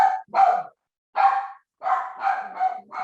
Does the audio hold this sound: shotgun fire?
no